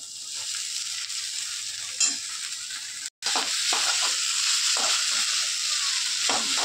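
Chowmein noodles fry with vegetables in a hot pan for egg chicken Hakka noodles, giving a steady close sizzle broken by scraping stirs and a brief pause midway.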